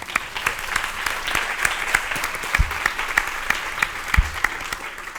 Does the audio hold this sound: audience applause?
yes